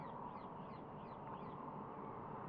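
Several harsh, squawking bird calls repeat against a noisy background, fairly faint and at a distance, with no talking.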